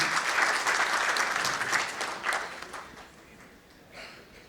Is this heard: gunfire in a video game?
no